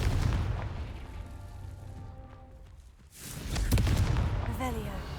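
Confringo blasting spell cast in the video game Hogwarts Legacy, a burst of booming blasts and rumbling bangs with a loud eruption midway, partly under a man's speech.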